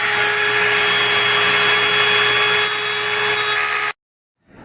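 A power tool trims small casting marks off the headlight mounting plate of a Yamaha XS650 chopper, giving a steady, loud, high-pitched whirring whine for nearly four seconds before it cuts off abruptly into silence.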